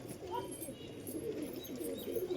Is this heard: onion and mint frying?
no